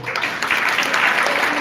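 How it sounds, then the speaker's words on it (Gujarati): An audience at a devotional festival gathering applauds a raas dance by small children, with dense, continuous clapping close by that stays steady throughout. "સતત તાળીઓ પાડો."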